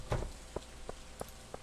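Rain falls in the video game Stardew Valley as soft, scattered drops ticking quietly at irregular intervals over a faint steady hiss.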